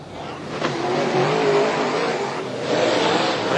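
A late model race car powers out of turn four at Carina Speedway, its engine note loud and sustained as it accelerates past, with no speech over it.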